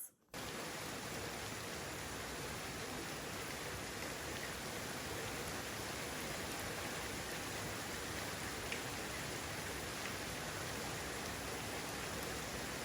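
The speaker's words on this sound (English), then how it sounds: "is it raining cats and dogs here today" Heavy rain falls outside as a steady, dense wash of hiss that holds an even level the whole way through, with no voices over it.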